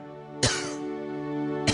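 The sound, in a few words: cough in Gabriel Knight 3 video game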